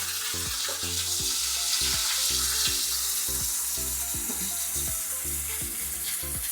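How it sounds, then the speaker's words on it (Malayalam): Onion, ginger and garlic frying in a pan with ground tomato for a chicken curry, giving a steady close sizzle with repeated stirring scrapes and no talk. "സബോളയും അതുപോലെ തന്നെ ഇഞ്ചി വെളുത്തുള്ളിയൊക്കെ ഒന്ന് വഴറ്റി വന്നിട്ടുണ്ട് അപ്പോൾ നമുക്ക് തക്കാളി അരച്ചത് ചേർക്കാം"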